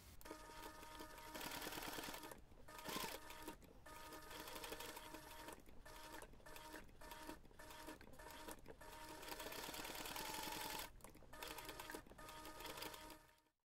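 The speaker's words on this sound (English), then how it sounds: "you can take this to the machine and we're going to top stitch just around that smaller piece" Sewing machine top-stitching around a small fabric piece of a Santa ornament: steady, close mechanical stitching runs in bursts, broken by several short pauses, with no talk.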